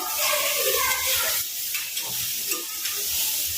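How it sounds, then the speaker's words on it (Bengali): Salted rice for fried rice being stirred in a hot pan, with a steady sizzling hiss and soft scraping stirs close by. "দিয়ে একটুখানি হালকা নেড়ে নেবো একটা।"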